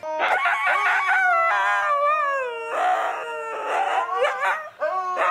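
A husky howls and yowls in long, wavering, pitch-bending cries with short breaks between phrases, loud and close, with no talk.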